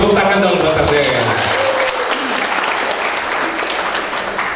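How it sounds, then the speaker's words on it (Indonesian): A dense crowd claps steadily at a company's fifth anniversary celebration, loud and sustained throughout with a faint murmur of voices underneath, the applause easing only slightly toward the end. "Tepuk tangan dong buat RDN."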